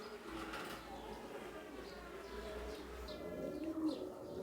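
Royal Teddy pigeons at a Khulna pigeon market give soft, low cooing, faint and steady against quiet market background with some murmured talk.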